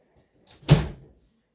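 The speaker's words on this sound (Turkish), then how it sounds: "Düzgün kapat şu kapıyı." A door is pushed shut in a home, one firm thud with a short rattle and fade, fairly close and alone.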